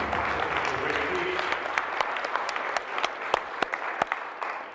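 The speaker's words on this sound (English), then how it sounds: "Everyone give yourself a round of applause for making it happen tonight." Audience applause at an evening event at the International Church of Cannabis, a full burst of clapping that thins into scattered, distinct individual claps, with some crowd voices underneath.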